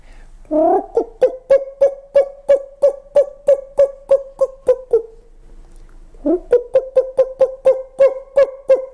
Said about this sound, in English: do you know what's the purple-crested turako call?